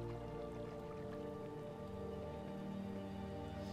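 Steady rain falls in the video game Kingdom, a continuous even patter of drops with a low hum beneath, uniform and unbroken throughout.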